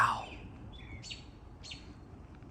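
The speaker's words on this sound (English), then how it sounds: "The birds are chirping and they don't care." Birds chirp and tweet during a severe backyard thunderstorm, with several short, bright calls repeating at a moderate distance over a steady low rumble of rain and wind.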